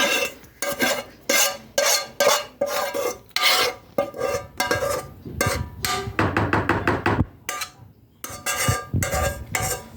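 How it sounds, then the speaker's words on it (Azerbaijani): Tomato, salt and fried onions being added to a pan and worked in, a run of sharp, rhythmic metallic scrapes and clinks of a utensil against the pan, close and loud with short pauses. "Belə tomat, duz və bu qovrulan soğanımızı da buna əlavə edirik."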